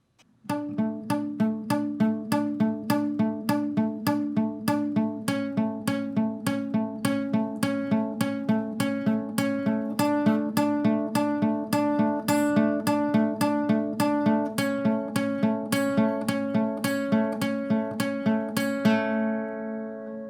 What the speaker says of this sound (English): And it repeats, and I'll play forward one more time. It sounds like this.